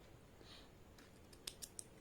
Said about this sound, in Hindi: अगर ये कैंची नहीं है तो बड़ा वाला कैंची से भी आप काट सकते हैं